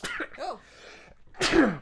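A single loud sneeze bursts out at close range right after a short spoken exclamation, sharp and breathy with a falling tail.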